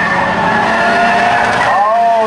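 Spectator drag race at Birch Run Speedway, a Cooper and a Ford hatchback heading into turn one, with loud, close engine roar and rising and falling tire squeal, continuous and intense.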